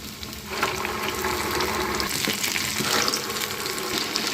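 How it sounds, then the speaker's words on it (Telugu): Vada batter hitting hot frying oil for perugu vada, a steady loud sizzle and crackle that swells briefly as more batter goes in, with no talk. "ఆయిల్లో వేసుకుందాం."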